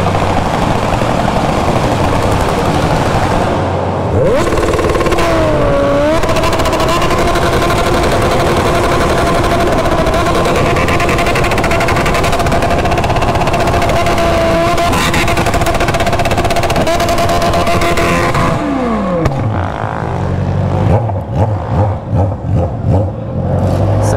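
A remapped Honda Hornet motorcycle at a motorbike event roars loudly and close, its engine revving in rising and falling sweeps over a constant heavy drone for over twenty seconds, ending in choppier bursts.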